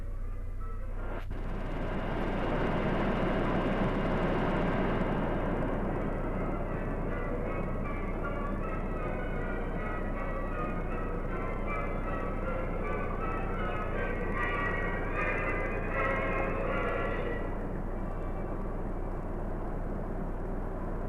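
Pan American airliner in flight over the North Pole on a return flight to Los Angeles, heard from inside the cabin as a steady, loud engine drone and broadband rumble that holds for the whole span with no talk.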